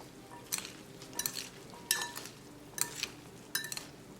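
A spoon tosses a salad of sweet corn, sweet peas and chickpeas dressed with salt, black pepper and olive oil, giving four or five soft scraping clinks at a steady pace, close and fairly quiet, with no talk.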